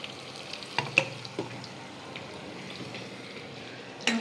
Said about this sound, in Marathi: मग जिरा टाकलाय. थोड्याच वेळात ते तडतड करतही आहे.